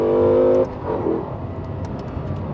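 Lexus LFA engine revving hard on a downshift, a loud, high-pitched blip that cuts off abruptly after about half a second, leaving a lower engine drone and road noise.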